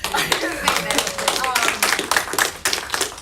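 A studio audience claps for a graduating participant, a dense run of sharp overlapping hand claps at a steady moderate loudness, with voices mixed in underneath.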